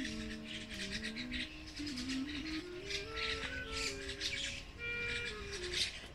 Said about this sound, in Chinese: 鸟儿真是热闹呀！